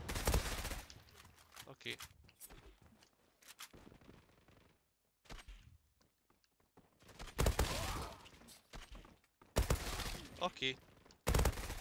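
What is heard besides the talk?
MP5 submachine gun gunfire in the video game Zula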